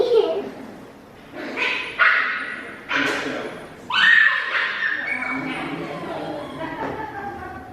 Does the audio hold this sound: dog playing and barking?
yes